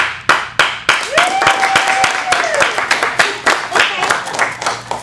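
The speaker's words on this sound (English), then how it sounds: "Everyone starts clapping." Clapping from a kids' improv showcase audience, a string of sharp, loud claps that swell into scattered group applause, with a voice briefly rising over it.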